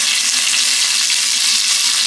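Curry leaves and dried red chillies frying with mustard seeds in hot oil for oggarane avalakki, a steady, loud, dense sizzle with no pauses and no talk.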